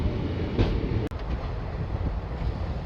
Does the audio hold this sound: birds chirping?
no